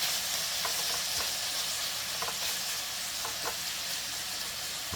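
Beef browning in a pan for a slow-cooked stew, a steady close sizzle and frying hiss that runs unbroken, with a few soft crackles and stirring scrapes.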